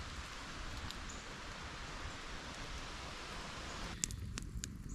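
Light rain falls steadily at an outdoor camp as a soft, even hiss of drops, with a few sharper ticks and rustles near the end.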